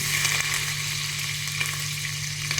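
Green chillies fry in hot oil in a pan during vegetable biryani preparation, a steady bright sizzle with crackling pops and a low hum beneath, close and constant with no voices.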